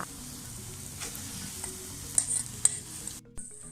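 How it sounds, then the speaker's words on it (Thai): Riceberry brown rice is stir-fried in a pan for crab fried rice, with a soft sizzle and light scraping of the spatula, a couple of sharper clinks standing out, all fairly quiet. "แล้วผัดให้เข้ากันค่ะ"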